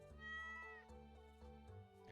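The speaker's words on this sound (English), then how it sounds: "Aggressive meowing noises." A cat meows in the Stardew Valley farming game, a quiet, drawn-out tonal cry followed by a few shorter clipped mews, with no talk over it.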